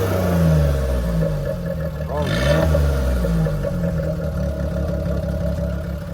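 A 1999 car's engine runs at a used car market, a steady mid-pitched hum that swells briefly as it is revved, with people talking nearby.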